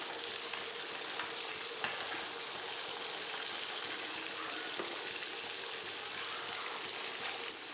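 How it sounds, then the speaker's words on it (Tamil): Chicken leg pieces deep frying in hot oil give a steady, dense sizzle and crackle that continues without a break throughout, with no talking. "எண்ணெய் நல்லா சூடானதுக்கப்புறம் இப்போ நம்ம சிக்கனை வந்து ஒன்று ஒன்று அதில் வந்து நல்லா எடுத்து போட்டுக்கலாம்"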